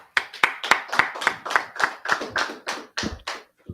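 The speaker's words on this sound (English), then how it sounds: "Let's clap it up." A group claps together at a religious brotherhood class in Durham, producing about a dozen sharp, evenly spaced claps in a steady rhythm. The claps are close and loud, with no talk.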